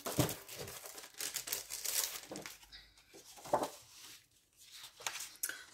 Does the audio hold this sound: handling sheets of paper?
yes